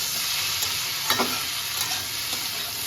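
Cumin powder and spices frying in a pan for a Bengali boirali fish curry, with a steady sizzle and soft scraping strokes of stirring running throughout, a few louder clinks of the spoon against the pan.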